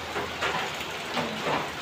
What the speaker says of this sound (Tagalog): Bigla lang bumuhos yung ulan.